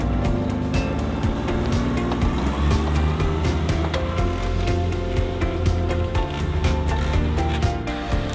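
A vehicle climbs a slippery hill in full drive at a steady speed, its engine droning loud and continuous with rough rattling and knocking over the whole stretch, and no voices.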